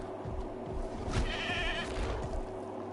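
Goat bleating as an Indominus rex eats it in the video game Jurassic World Evolution 2, a single wavering bleat in the middle over steady ambient game background.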